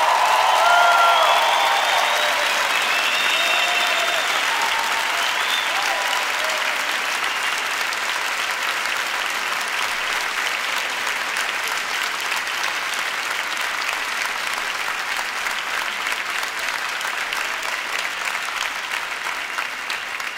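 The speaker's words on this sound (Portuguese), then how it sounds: "Salva de palmas é pra Jesus, bata porque ele merece." Sustained applause from a live worship crowd at a Vineyard church concert, a dense wash of clapping that begins loud and stays steady, with faint cheering mixed in.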